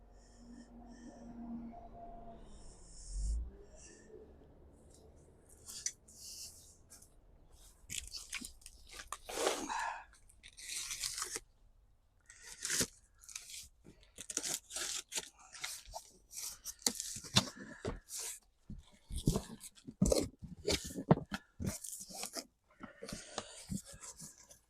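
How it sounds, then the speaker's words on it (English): A boxed VEGEGA vegetable garden bed package being opened, with a low hum at first, then cardboard tearing, plastic crinkling and rustling in close, irregular bursts that grow busier toward the end. "So let's unbox it."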